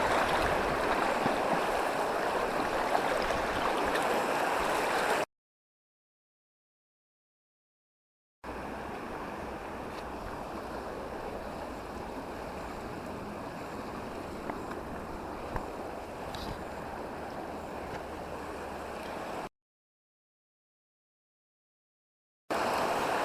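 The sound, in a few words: strong river current flowing during wading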